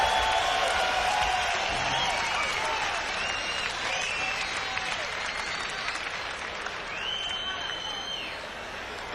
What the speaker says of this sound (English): How about a big Chicago round of applause?